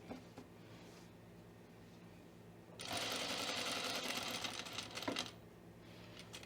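A sewing machine stitches a pocket onto a Cameron button-up shirt, running in a steady fast whir for about two seconds before stopping, with faint clicks on either side.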